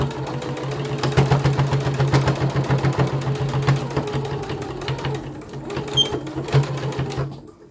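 A sewing machine stitching a fabric musician's face mask runs close and steady with a fast, even mechanical whir and rattle, then slows and stops near the end.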